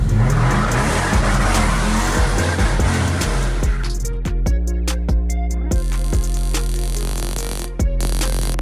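A modified police car with a loud custom exhaust, revving and accelerating hard near the listener with brief tire squeal, then sharp engine pops and crackles as the revs change.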